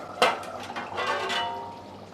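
Hot water, warmed on a pot lid, poured into a cooking pot of valache birde (field bean curry) in a home kitchen: a short splashy pour starting with a clink, then a soft steady wash that fades.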